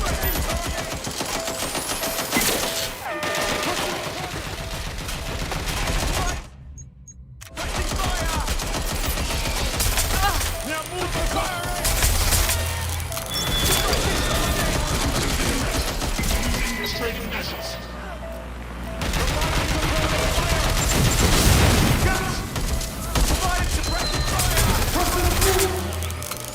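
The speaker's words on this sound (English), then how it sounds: "Suspect has opened fire!" Gunfire in the Watch Dogs: Legion video game: dense bursts of automatic fire and scattered shots run through a loud, busy combat scene, with brief lulls and game voices and music mixed in.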